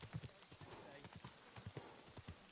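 Horse hooves clip-clopping in the video game Kingdom Come: Deliverance II, a steady rhythmic trot of distinct hoofbeats at moderate pace, faint overall and with speech over it.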